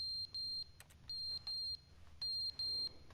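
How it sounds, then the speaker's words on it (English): An alarm in the video game The Stanley Parable beeps in evenly spaced pairs of shrill tones, repeating three times with brief clicks between, loud against a quiet low hum. "That beeping is annoying."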